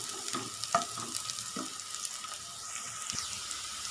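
Bitter gourd sautés in oil for a tamarind curry, a soft steady sizzle close by with a few light clinks and stirring knocks at intervals.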